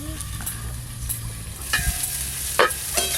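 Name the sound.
broccoli frying in a pan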